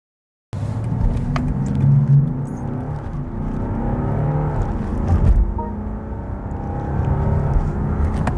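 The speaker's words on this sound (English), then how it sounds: "the way the car has accelerated, it was not only smooth, it felt refined" A BMW 740d (G70 7 Series) diesel sedan pulls hard in a smooth, steady acceleration, a deep rising rumble that swells and holds with no break for several seconds.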